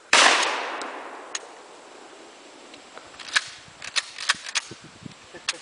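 A single sharp gunshot cracks outdoors on an Alaska road trip, its echo trailing off over about a second, followed by scattered small clicks and handling noises.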